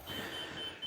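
A 2026 Forest River Sunseeker 2400BDS Class C motorhome sounds a warning because its leveling jacks are down: a faint, evenly spaced series of short, high electronic beeps over a low hum.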